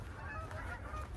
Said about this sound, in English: Oh, and some geese above us.